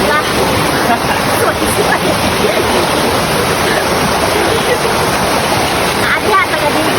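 Stream water rushes steadily near Mabanog Falls, a loud continuous broadband wash with people talking over it.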